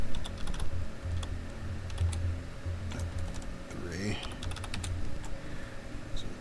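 Typing on a computer keyboard while entering text into a Microsoft Excel spreadsheet, a steady run of soft, close key clicks beneath a quiet voice talking.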